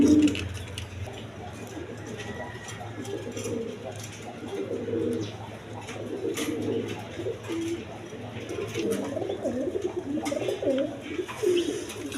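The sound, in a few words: pigeons, orange chiller male pigeon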